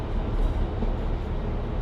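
Low rumbling interior of a moving train, a steady drone with faint rattles and no one speaking.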